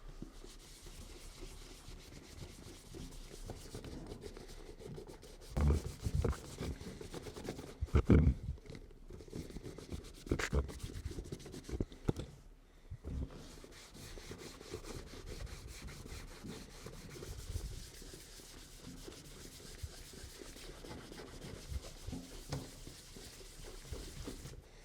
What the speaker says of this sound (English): after we do just a little bit of buffing with that dry cloth